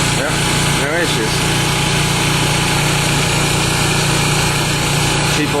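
A cheap homemade generator built as a truck APU runs steadily close by, a buzzing, high-pitched small-engine drone that holds an even tone throughout, with a brief voice near the start.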